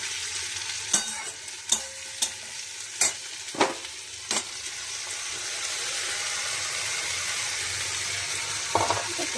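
Onion and tomato frying in a pan for dal, a steady close sizzle with sharp clinks and scrapes of a stirring spoon in the first half, then continuous frying alone, one more scrape near the end.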